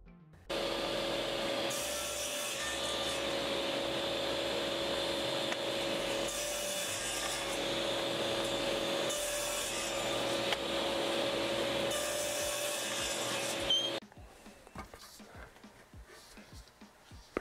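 A saw cuts wood while a shop vac runs as dust collection, a loud steady motor whine with the blade's rasping cuts rising and falling over about fourteen seconds before the machine stops and a few quiet clicks follow.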